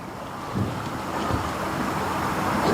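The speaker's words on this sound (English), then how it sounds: "obviously it's windy today" Wind blows on a gusty day, buffeting the microphone with a rough, rumbling roar that swells slightly and stays steady throughout.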